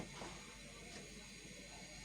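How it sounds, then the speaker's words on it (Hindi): A gas stove burner lit under a kadhai gives off a faint, steady hiss, quiet and continuous, with no voices over it. "सबसे पहले चूल्हे पे कढ़ाई रख के फ्लेम ऑन कर देंगे।"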